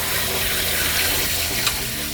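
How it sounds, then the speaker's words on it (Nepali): Cold tap water pours steadily over boiled pasta sitting in a mesh strainer, rinsing it in a continuous broadband splash with no talking. "अब यसमा चिसो पानी हालेर हामीले यसलाई पखाल्नुपर्छ।"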